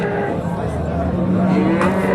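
A cow moos loudly and close by, a long low drawn-out call amid a noisy crowded livestock market in Kattaqo'rg'on, Uzbekistan.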